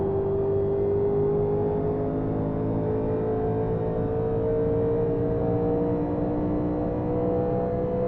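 A NASCAR Legends race car engine in iRacing at Homestead Miami Speedway holds a steady, loud droning hum at near-constant revs, pitch creeping slowly over several seconds with no talk.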